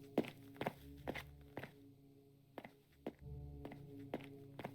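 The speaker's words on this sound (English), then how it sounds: "you can hear the footsteps" A killer's heavy footsteps in the Roblox game Violence District thud close by in an uneven series of about a dozen loud, hollow steps, some paired and some spaced apart.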